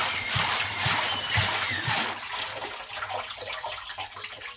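A Miele washing machine with its front open splashes and sloshes water loudly and close by, with irregular bursts of spray that ease a little toward the end.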